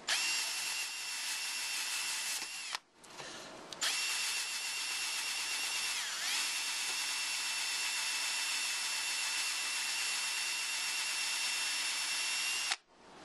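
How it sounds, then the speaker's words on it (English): A power drill with a polishing pad from a headlight restoration kit runs steadily at high pitch for about twelve seconds on a knife blade, with a brief pause and restart near the start; a grinding, whirring tone throughout. "I have the drill set up with our pad."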